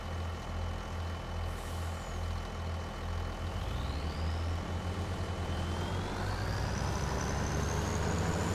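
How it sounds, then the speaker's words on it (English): A truck's air brakes hiss over a steady, loud engine rumble nearby, with faint rising tones drifting in the background. "That's the air brakes on the trucks, Lee."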